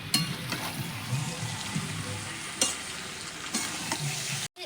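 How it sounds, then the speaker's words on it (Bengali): Jackfruit and potatoes stir-fry in a pan with tomato puree and Kashmiri chili powder, a steady close sizzle punctuated by a few sharp scrapes of the spatula. "এটা দিয়ে এঁচোড় আলু ভালো করে কষিয়ে নেব"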